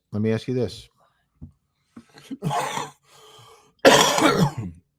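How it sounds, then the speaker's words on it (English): A person coughs harshly a few times and clears their throat, with short breathy gasps between the bursts, close and loud. "one of those lingering summer coughs"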